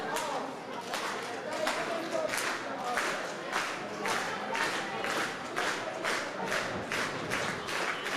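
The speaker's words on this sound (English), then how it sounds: "leading the clap along" A wrestling show crowd claps along in a steady, even rhythm of sharp beats, the audience clapping in unison over a room-filling murmur.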